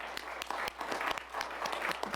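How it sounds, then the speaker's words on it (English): A short burst of applause from a small group at a county commission meeting, steady clapping with scattered sharp claps at moderate distance. "give you a round of applause for what you've done"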